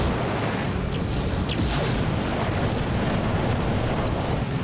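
Sustained, loud gunfire and explosive booms in the video game Redline: Gang Warfare 2066, blending into dense rumbling chaos with a few sharper bursts and no clear pauses.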